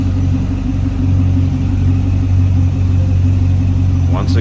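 The 6.2 liter LS3 V8 of a 2012 Chevrolet Corvette Grand Sport convertible runs with a loud, steady, deep rumble up close, holding an even idle without any clear rev.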